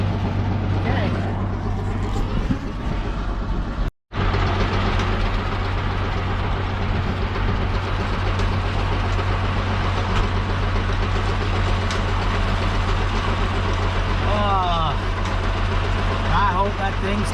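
The engine of an old Hesston swather runs steadily at a close, loud, even idle throughout, with a low constant hum, a momentary dropout near four seconds and voices talking over it.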